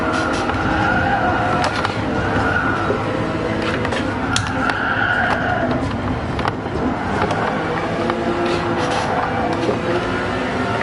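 Porsche race car lapping the Nurburgring in a racing video game, a loud continuous engine roar with rising and falling revs and occasional tire squeal, with a voice talking faintly underneath.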